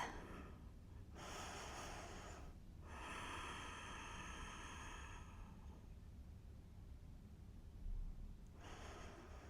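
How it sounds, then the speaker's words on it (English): Deep breaths taken during a gentle menopause-relief yoga routine, two long airy inhalations and exhalations near the microphone, separated by quiet pauses, with no speech. "Take a big breath."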